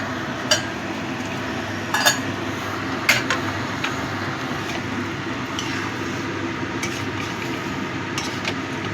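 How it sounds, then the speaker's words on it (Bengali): Crab curry stirred in a pot after hot water goes in, with a steady bubbling simmer and occasional sharp clinks of a spoon against the pot, no talking. "জলটা দিয়ে ভালো করে কষিয়ে নেব।"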